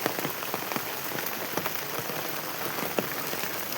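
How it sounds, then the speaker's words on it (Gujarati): Heavy rain falls nonstop in a village in Sabarkantha, Gujarat, a dense close patter of drops hitting surfaces with no voices. "વરસાદ જ્યારે અતિશય પડે છે"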